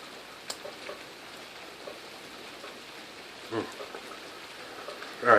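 Steady light rain falls outdoors as a soft, even hiss throughout, with a few faint bumps and a louder rustle near the end; no one speaks.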